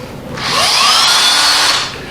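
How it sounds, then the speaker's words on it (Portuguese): A repaired electric screwdriver powered from a bench power supply spins up, runs as a loud, steady high-pitched motor whine for about a second, then winds down, close and alone. "agora ela vai ser a minha parafusadeira de bancada"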